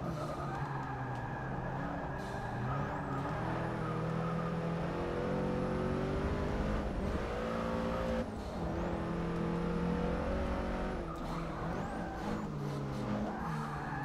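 Engine of a race car in Forza Motorsport 6, heard from the interior view, a steady loud drone that climbs and drops through repeated gear shifts and revs, alone with no talk.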